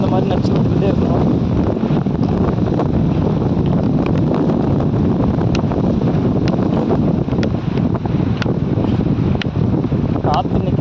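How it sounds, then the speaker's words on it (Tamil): Strong wind buffets the microphone in a steady, loud roar with low rumbling gusts throughout, on a farm where a palm tree is being tended. "காற்று இன்னைக்கு பயங்கரமாக அடிக்குது."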